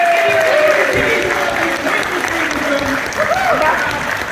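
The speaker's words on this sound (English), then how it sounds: "can we please get a massive round of applause for all of our awesome guests up on stage right now?" A crowd claps loudly for guests on stage at a panel event, dense sustained applause that slowly eases, with a voice speaking over it.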